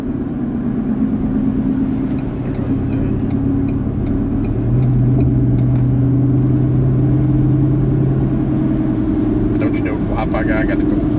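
A car speeds up on a road to overtake a truck doing about 50 mph, its engine rumbling steadily and rising in pitch partway through, with a person talking over it.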